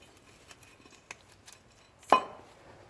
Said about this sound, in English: Next, you can pull the rotor off